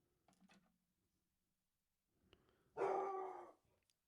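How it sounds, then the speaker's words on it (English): A dog barks indoors: a couple of short muffled yelps early, then one louder, drawn-out bark near the end, with quiet gaps between. "Well, the dog's going off at now."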